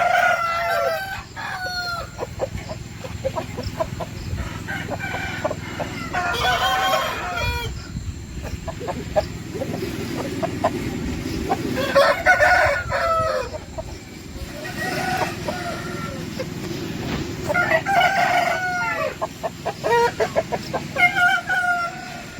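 Several roosters of various breeds crow repeatedly in a garden flock, long rising calls overlapping near and farther off, with steady clucking and squawks from hens in between.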